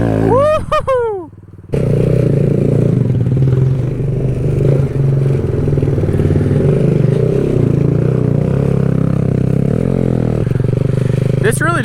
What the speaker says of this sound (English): This really just turned into a Z125 trail ride